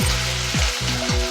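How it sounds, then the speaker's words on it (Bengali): Garlic paste frying with browned sliced onions in a pan gives a loud, close sizzle, with a few sharp spattering bursts. "এরপরে দিয়ে দিব রসুন বাটা,"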